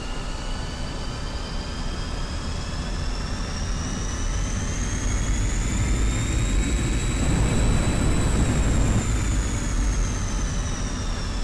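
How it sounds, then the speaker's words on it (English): A MiG-21bis jet engine in the DCS flight simulator roars steadily as it spools up, a rising whine climbing in pitch through mil power into afterburner, loud and continuous with no talk. "You can hear the RPM changes all the way up to mil power, and the afterburner is completely over the top"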